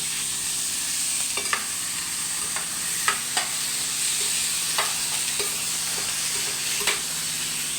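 Chicken curry cooking in a pan, with a steady background sizzle and repeated sharp clinks and scrapes of a utensil stirring against the pan, fairly close and with no talking.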